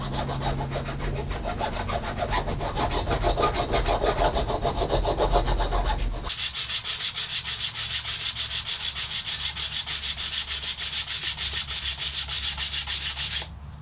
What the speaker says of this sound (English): I'm just going to work away at the slot and get this file to fit nice and snug.